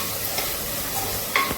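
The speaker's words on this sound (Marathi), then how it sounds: "त्याच्यानंतर थोडं ढवळून घ्यायचं आहे." Tomato masala sizzles in a pan while being briefly stirred with a utensil for a Maharashtrian prawn and potato gravy, a short close burst of frying hiss with a light scrape near the end.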